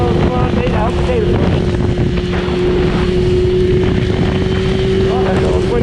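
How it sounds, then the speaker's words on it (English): Strong wind buffets a motorcycle rider on a GSX-R in 40-mile-an-hour winter gusts, a loud, continuous roar over the running engine's steady drone. "Oh, that's a little windy, enough."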